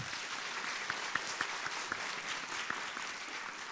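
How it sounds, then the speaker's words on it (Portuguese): A church congregation at a Catholic Mass breaks into sustained applause for Saint Anthony of Padua, a steady dense patter of many hands with a few sharper individual claps standing out, filling the room without speech. "grande, dá uma salva de palmas a Santo Antônio."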